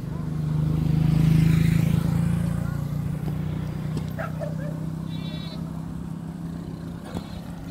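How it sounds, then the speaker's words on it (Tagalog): A single motorcycle or tricycle speeds past on a rural road, its engine droning loudly as it nears and then fading. Faint animal bleats and background noise continue after it passes. "Napakabilis ng tricycle."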